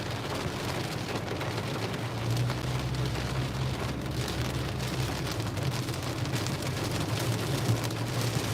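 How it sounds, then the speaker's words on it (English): Heavy rain from a Southwest Florida daily thunderstorm pours steadily onto a car's surfaces, a dense unbroken hiss with a low rumbling undertone and no talk. "daily thunderstorm here in Southwest Florida."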